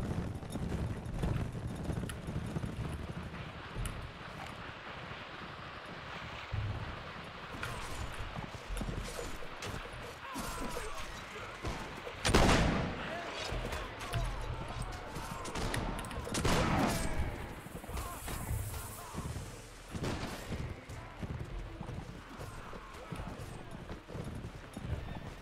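A cavalry charge in the Fire & Sword video game set in the 1648 Swedish civil war: steady hoofbeats under wind noise with scattered gunfire volleys, and someone talking over it.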